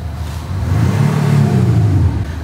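A car engine with a tuned, sporty exhaust revs up to a loud, rising whir, holds briefly and falls again, heard close and on its own.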